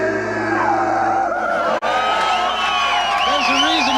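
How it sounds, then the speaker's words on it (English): A live rock concert crowd at The Capitol Theatre whoops and cheers loudly and continuously, the roar broken by one brief dropout, with a voice talking over it. "This crowd is a little bit louder than they have been before"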